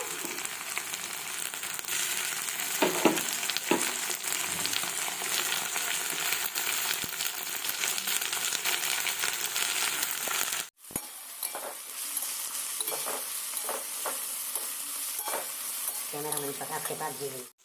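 Tomatoes fry in a pan for cabbage Manchurian, a loud constant sizzle with spoon scrapes and clinks of stirring; the hiss drops briefly and resumes softer with more distinct scraping toward the end.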